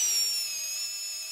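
A Festool 12-volt cordless drill driving an 11-inch wood screw into wood gives a steady, loud, high motor whine that sags slightly in pitch as the screw bites, heard alone.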